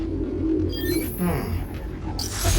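Pigeons coo in a park, a sound sample from the Spider-Man: Miles Morales video game: low, soft, throbbing coos overlap in a close, busy group with faint chirps on top.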